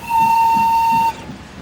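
A steam locomotive lets out one loud, steady whistle blast of about a second that cuts off abruptly, with rhythmic chuffing underneath that continues after it stops.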